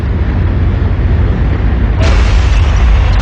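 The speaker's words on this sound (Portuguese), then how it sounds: "Montgomery lança sua ofensiva com uma barragem de artilharia preliminar" A dense, continuous roar of booming World War II artillery barrage blasts, loud and rumbling, with a sharper burst partway through.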